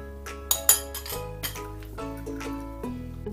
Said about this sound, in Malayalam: അവസാനം എടുത്തു വച്ചിരിക്കുന്ന M&M കൂടി ചേർത്ത് നന്നായിട്ട് ഇളക്കി യോജിപ്പിച്ചു.